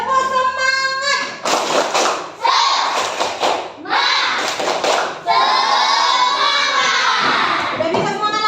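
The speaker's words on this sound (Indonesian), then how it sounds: "Tepuk semangat." Children in a classroom perform a rhythmic spirit clap, with loud chanted voices alternating with bursts of patterned group clapping and thumps, all close and energetic.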